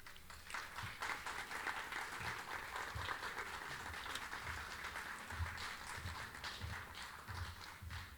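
Sustained, dense applause from a large audience thanks a professor at a Cuba infrastructure scholarship competition, with steady loud clapping throughout and no talking over it.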